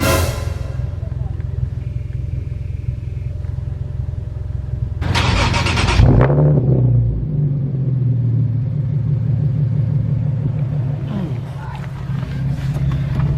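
A wide-body Nissan Juke engine cranks and catches with a sharp burst, then settles into a loud, close, rumbling idle, rising again near the end; a voice talks faintly in the background before the start.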